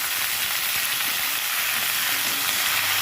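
Vegetables for a jackfruit and prawn curry poured into hot oil with panch phoron and green chillies, giving a steady, loud, close sizzle of frying throughout, with no talking.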